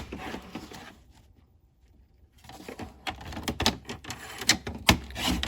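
Cardstock for a greeting card being cut on a paper trimmer, a quiet pause followed by a run of sharp clicks and slicing snaps up close, with no talk.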